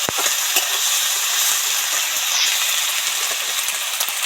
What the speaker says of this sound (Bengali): এবার রসুনের পেস্ট দিয়ে দিচ্ছি